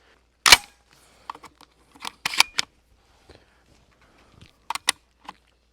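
A Spandau S2 semi-automatic 12 gauge shotgun fires at an outdoor range, giving a few sharp, short reports at irregular spacing, two in quick succession, with small clicks in between and quiet gaps.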